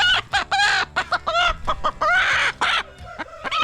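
A nesting hen clucks close by in a run of short, repeated calls with brief pauses, broken by longer, more drawn-out vocalizations, on a small homestead farm; no one speaks.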